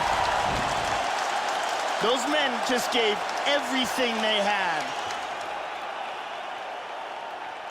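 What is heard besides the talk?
crowd applauding after fight in UFC video game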